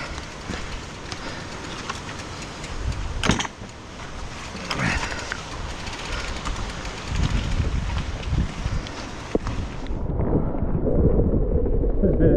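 Steady, loud wind buffeting the microphone while riding an electric mountain bike on a track in the South Lakes in December, in a strong cold headwind; broadband roar throughout with brief thumps, easing to lower rumble near the end.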